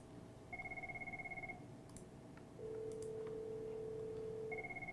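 A desk phone rings with an incoming call, sounding as a series of repeated electronic tone bursts followed by a long steady tone, then the tone pattern starting again, clear and fairly close with no voices.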